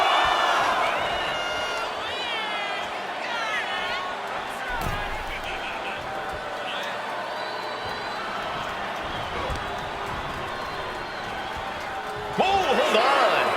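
A virtual arena crowd in the WWE 2K25 wrestling video game roars and cheers steadily for a Saturday Night's Main Event match, a loud wash of noise with whoops and whistles and a louder swell near the end.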